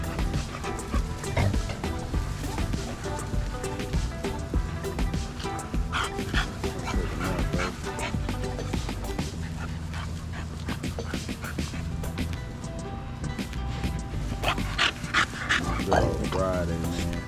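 American Bully puppies scuffle with big dogs at a breeding facility, with repeated barks, yips and whimpers. Panting and a voice run over the close, busy commotion throughout.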